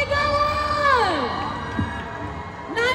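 An audience at a Philippine TV promotional event shouts and cheers together, with a sustained crowd roar and rising and falling whoops throughout.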